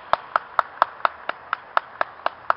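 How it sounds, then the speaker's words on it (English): Clapping outdoors at a bunny cage: about eleven sharp, evenly spaced claps in a steady rhythm, close and crisp, with no voices. "Everybody clap."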